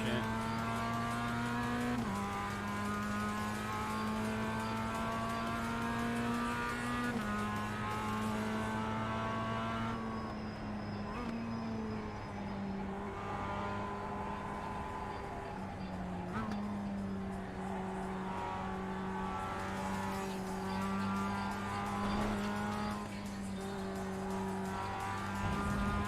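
A race car in the iRacing simulator drones steadily at high revs with a buzzy engine tone, shifting pitch at each gear change, loud and continuous while someone talks over it.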